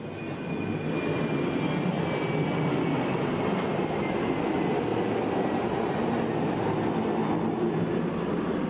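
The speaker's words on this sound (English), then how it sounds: "Here comes the plane." Airplane flying overhead near Chiang Mai, a steady loud broadband roar that holds for the whole stretch with no talk over it.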